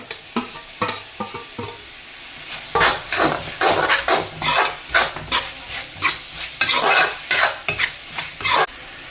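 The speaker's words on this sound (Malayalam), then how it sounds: "നമുക്കിനി ക്യാപ്സിക്കം ഇട്ട് കൊടുക്കാം." Capsicum stirred in a sizzling pan while making pasta masala, with steady frying hiss and repeated scraping stirs and utensil clinks against the pan, close up and with no talking.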